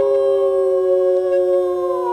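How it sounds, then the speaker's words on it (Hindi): A street dog howls in a long, sustained mournful wail, steady and clear with no other sounds, used as an eerie effect in the Chandramukhi film. "गली का कुत्ता डॉल्बी साउंड में रो रहा है।"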